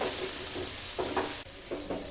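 Shredded cabbage frying dry in a pan, a low continuous sizzle with a few soft stirring scrapes breaking through, close and fairly quiet.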